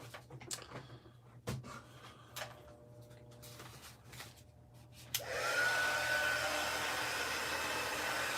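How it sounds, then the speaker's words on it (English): A handheld heat tool switches on partway through and blows a steady, loud rush of hot air over a handmade multi-layer card, following some light handling clicks and taps. "let me grab my heat tool"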